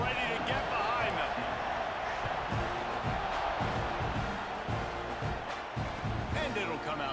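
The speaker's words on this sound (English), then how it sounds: "this crowd now ready to get behind them" Broad, steady stadium crowd roar in EA Sports College Football 26 ahead of a kickoff, loud and continuous throughout with swelling cheers, under a commentator's voice.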